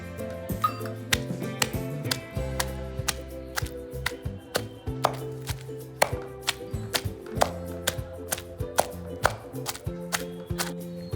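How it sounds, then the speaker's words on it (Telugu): Green chilies and peeled garlic pounded with roasted ingredients for a raw mango chutney, a steady rhythm of sharp close knocks and thuds, repeated many times with a faint mechanical hum beneath. "ఈ విధంగా మెత్తగా పచ్చడి దంచుకోవాలి"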